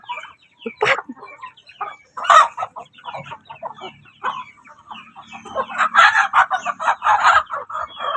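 Chickens, including a rooster, cluck in short bursts and crow nearby, with the calls growing busier and louder toward the end.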